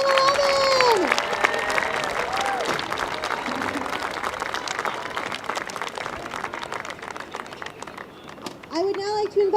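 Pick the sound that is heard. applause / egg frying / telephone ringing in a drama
applause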